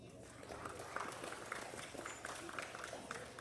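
Light, steady clapping from the crowd at a county youth livestock show honoring the young exhibitors, lasting a few seconds with background crowd noise and people talking.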